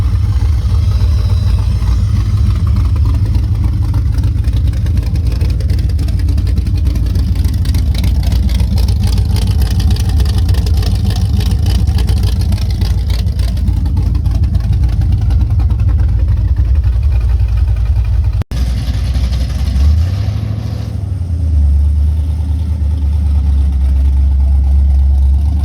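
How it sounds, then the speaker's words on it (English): Car engine idling steadily after being started, a loud close low rumble that holds, with a brief cut and a shift in tone near the end. "I just had to get it started and give it a quick drive for you guys."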